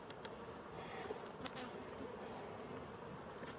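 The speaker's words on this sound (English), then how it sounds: "they're still full of bees" Honeybees in a Colorado beekeeper's hive buzz quietly and continuously, a soft steady hum with a few brief sharper bursts as insects fly close.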